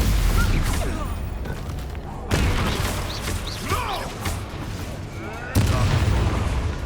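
Three loud, sudden Confringo blast-spell explosions in the Hogwarts Legacy video game hit at irregular intervals, each one decaying into a rumbling roar, with spoken spell incantations and combat sounds between them.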